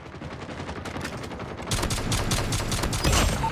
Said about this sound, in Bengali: ও মেশিন গান চালাচ্ছে, মেশিন গান